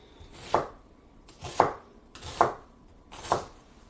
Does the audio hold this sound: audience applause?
no